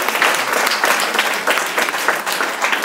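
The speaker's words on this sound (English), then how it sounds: "A big round of applause to everybody." Lively audience applause at an organised conference event, a thick, fairly close burst of many hands clapping with slight rhythmic swells throughout, no voices over it.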